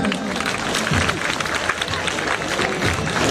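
Audience at an all-Sindh convention bursts into loud, dense, sustained applause that fills the hall evenly from start to finish.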